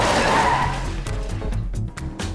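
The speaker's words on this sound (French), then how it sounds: "Attention, ça freine!" A cartoon car brakes hard, its tires screeching loudly at first and then fading into rough skidding rumble, close and alone.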